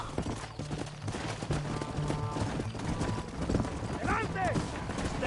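Horse hooves pound at a gallop in Red Dead Redemption, a quick rhythmic clatter under game music, with a voice shouting over it and scattered gunfire.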